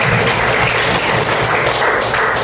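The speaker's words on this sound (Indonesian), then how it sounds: "Tepuk tangan buat Siti Mariam." Loud, close applause from an audience at a teachers' event in Indonesia, a dense burst of clapping that runs without pause.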